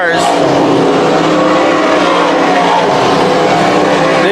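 Modified race cars roar around a speedway oval, engines loud and close, with sustained high revving from several cars in a dense, unbroken pack.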